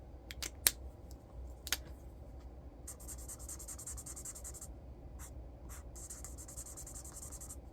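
Marker swatches drawn on paper with a double-sided Flomo marker in hot pink, with chisel and fine tips: quiet scratchy strokes in several bursts, close and alone with no talking.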